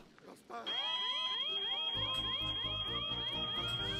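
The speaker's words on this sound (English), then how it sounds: "No, he has a fire alarm." A fire alarm rings inside a video game as a steady, piercing high tone that holds for several seconds, layered over shifting in-game music and effects.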